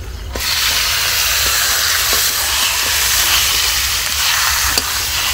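Chicken meat tipped into hot oil spiced with turmeric, chilli, cumin, coriander and biryani masala, giving a loud, steady close-up hiss and sizzle that holds throughout with a few faint clinks.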